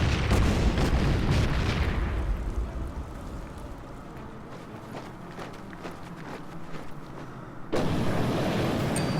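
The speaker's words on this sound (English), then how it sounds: "Wellington takes another shot at my Panzer." A Wellington bomber strikes a Panzer tank in the WWII strategy game Order of Battle, set near Cairo: heavy booming blasts open, fade into a quieter rumble, then a sudden loud burst returns near the end.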